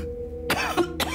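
Two sharp, close coughs from one person come out of a quiet room background, spaced about half a second apart, each a harsh burst followed by a short throaty tail.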